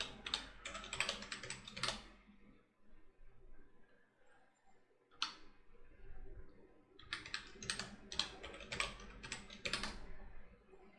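Password being typed on a computer keyboard: two quick bursts of crisp key clicks separated by a quiet pause and one isolated tap, close and moderately soft.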